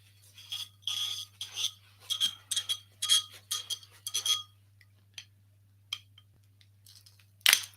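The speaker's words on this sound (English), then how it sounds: "And we got a nice little cork inside. So we'll get that out." A cork is worked out of a bottle of French Cabernet Sauvignon in short scraping, squeaking bursts, followed by a few isolated clicks, close and clear with no talking.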